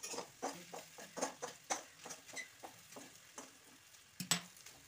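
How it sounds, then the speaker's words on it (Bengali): Cauliflower pieces fry quietly in a pan, with faint, rhythmic scraping and stirring strokes over a soft background sizzle, spaced roughly every half second. "এই কপিটা ভেজে নিলাম, কপি ভাজা হয়েছে, সব দিয়ে দেবো। সবটাও ভেজে নিচ্ছি"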